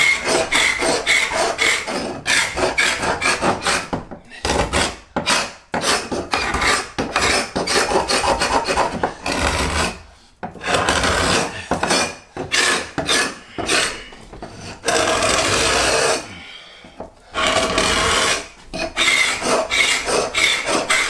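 A hand grater scrapes stubborn old paint blobs out of a corner during prep work in an old house, giving loud, close, harsh rasping strokes in a steady back-and-forth rhythm with brief pauses between passes.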